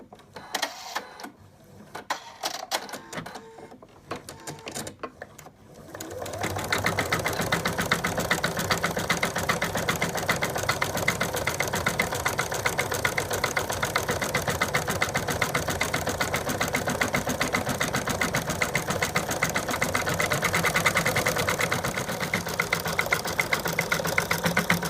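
A home embroidery machine stitching the outlines of a dog's limbs and tail through a top fabric layer in an in-the-hoop project: a steady, close, rapid mechanical whirring and chatter that sets in after a few seconds of quieter handling noises and then runs on unbroken.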